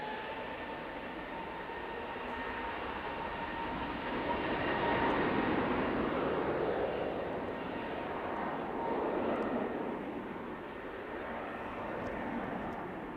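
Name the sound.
EasyJet airliner taking off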